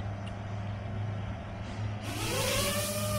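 FPV quadcopter drone motors, tuned with KISS firmware, spin up after arming, a steady tonal hum that jumps into a loud, bright whine with rising and falling pitch sweeps about two seconds in.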